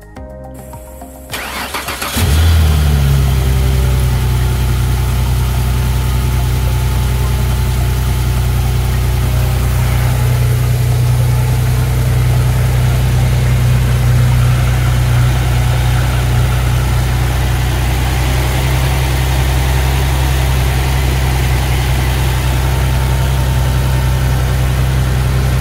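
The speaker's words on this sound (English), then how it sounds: "So we're now at a point where it's time to start the car, check for any full leaks, and see that she runs well." A Jaguar X-Type V6 car engine cranks briefly, catches and settles into a loud, steady idle that holds close and unbroken, with no voices.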